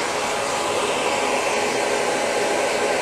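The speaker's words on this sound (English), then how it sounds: "Blow dry the underneath of the section to make sure the underneath of the hair is dry." Hair dryer blowing steadily and close while hair is blow-dried with a round brush, a continuous loud airy roar with no pauses.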